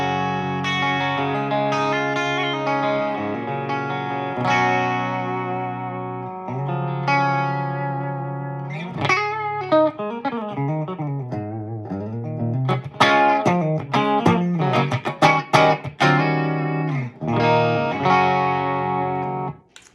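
An electric guitar played through a Marshall Origin 20 amp with the volume rolled down rings out in sustained chords, then turns to quicker picked notes and bends, clear and close with no talking.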